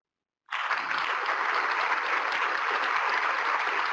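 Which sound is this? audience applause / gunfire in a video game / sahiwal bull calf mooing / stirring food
audience applause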